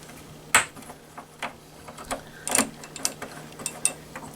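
Small metric screws are backed out of a Traxxas TRX4 beadlock wheel, giving a close series of irregular clicking, ratcheting driver ticks and light metallic taps with no talking.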